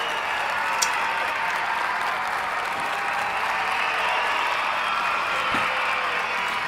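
Cheering and applause sound effect played during a live stream: a steady wash of crowd clapping and cheering that holds at an even level for nearly seven seconds, with a couple of faint sharp clicks.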